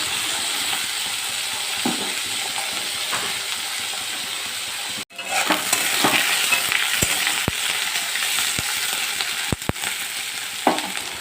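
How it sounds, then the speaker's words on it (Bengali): Ivy gourd (kudri) fries in mustard oil with nigella seeds and green chilies in a wok, a close steady sizzle broken by a brief pause, then renewed hissing with sharp clicks of stirring. "কিছুক্ষণ ভেজে নেব।"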